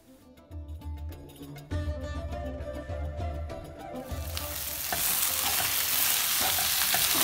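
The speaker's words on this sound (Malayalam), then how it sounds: "now give it A good stair" Arabic meat pie filling is stirred in a frying pan, first with a low hum and light scraping, then a louder, steady sizzle that swells and holds as the stirring goes on.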